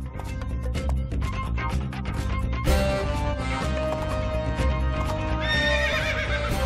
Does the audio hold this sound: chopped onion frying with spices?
no